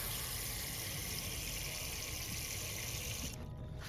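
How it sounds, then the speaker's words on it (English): Steady broadband hiss of water spraying from a hose onto a Volkswagen Passat B5.5 wagon, continuous and close, cutting off abruptly near the end. "We're gonna spray some water down here."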